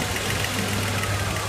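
An Infiniti G35 / Nissan 350Z engine runs at a steady low idle, a continuous close rumble with a deep, even hum and no talk over it.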